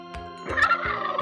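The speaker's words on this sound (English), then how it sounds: "Turkey." A farm turkey gives a short, loud, rattling gobble close by, standing alone without music or voices.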